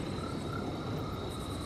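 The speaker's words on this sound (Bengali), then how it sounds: "ঝিঝির ডাক, ব্যাঙের শব্দ" Frogs croak in a steady chorus at night while crickets trill along with them, a continuous, even nocturnal texture with no voices over it.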